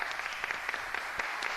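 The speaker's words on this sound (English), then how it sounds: "Crowd appreciative of the entire sequence." A wrestling crowd applauding a sequence, a dense, steady patter of many hands clapping at a moderate distance, with no lull across the moment.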